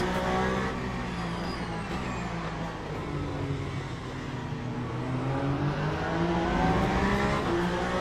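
GT3 race cars in Le Mans Ultimate at Imola during an endurance race, engines droning steadily and loudly with shifting pitch as several cars pass, with a brief tire squeal and no talking.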